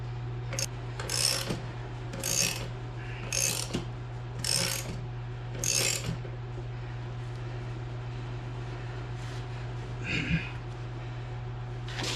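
A tire changer's bead-breaker foot presses a tire off its bead during TPMS work, giving a steady mechanical hum under a series of rhythmic scraping, ratcheting bursts that fade to a quieter drone.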